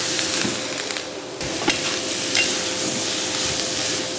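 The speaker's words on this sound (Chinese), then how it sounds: "把菜稍微炒一下，" Preserved mustard greens stir-fried in hot oil in a wok with scallion, ginger, garlic and dried chili, a steady sizzle broken by scraping stirs of the spatula, close and without talk.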